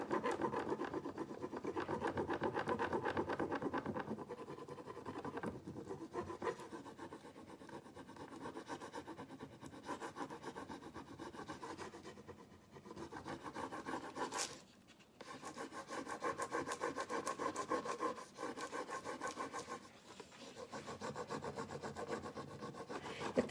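A furniture transfer is rubbed firmly onto a wooden surface, giving a long scratchy scraping rub in repeated strokes with brief pauses, close and fairly quiet, no speech.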